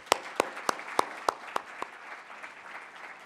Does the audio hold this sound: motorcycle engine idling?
no